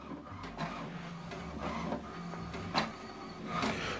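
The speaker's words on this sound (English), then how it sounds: "So what it's doing now, what it's printing is alignment." An HP DeskJet inkjet printer runs off an alignment page, its carriage shuttling back and forth in steady mechanical passes with clicks and whirs, close and continuous with no talk.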